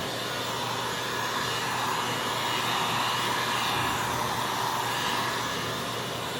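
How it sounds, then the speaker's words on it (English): A heat tool blows hot air onto VCT floor tile, a steady, close, loud whooshing roar with constant hiss and no pauses. "So if we heat the tile in this area, it'll conform over that and lay down."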